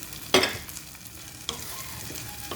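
Eggs stirred into sardines and vegetables in a frying pan, one sharp scrape of the utensil followed by softer stirring and a faint background sizzle.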